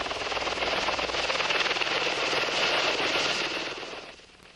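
Mi-28 Havoc attack helicopter, a steady loud rotor and turbine roar with rapid blade chop throughout, fading slightly at the end; no voices.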